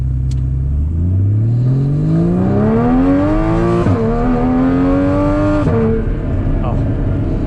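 A Porsche 981 with a Soul Performance competition exhaust and its valves open revs up with a loud, rising engine tone that climbs steadily, dips briefly, then holds a high note before dropping off.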